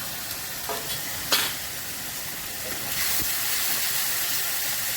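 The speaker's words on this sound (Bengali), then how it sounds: "এবার এই মশলাটাকে ভালো করে কষিয়ে নেব।" Ground turmeric, coriander, cumin, chilli powder and salt being fried in oil for a koi fish dish, a loud continuous sizzle and hiss with a sharp clatter early and the frying swelling louder partway through.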